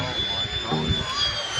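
A low-flying jet airliner roars loudly on approach to land at an airport, a steady, sustained engine rumble and whine with people talking faintly underneath.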